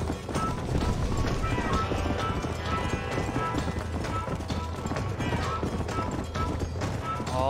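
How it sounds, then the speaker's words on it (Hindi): Horses galloping in a Red Dead Redemption horse race in the Wild West: continuous rapid hoofbeats from several horses, loud and close, with faint game music and a possible brief whinny underneath. "ऑलमोस्ट अच्छा चल रहा है घोड़ा मेरे पास अच्छा है"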